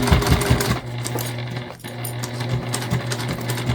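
A sewing machine stitching through several fabric layers of a bag. It whirs steadily and loudly up close, with short bursts of stitching and no talking.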